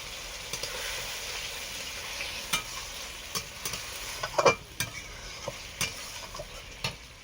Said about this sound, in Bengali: মশলা কষানোর জন্য আমি একটু জল দিয়ে দিচ্ছি